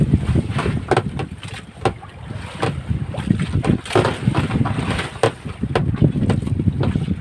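Strong waves slap repeatedly against a small fishing boat's hull at sea, with gusty wind noise buffeting the microphone throughout.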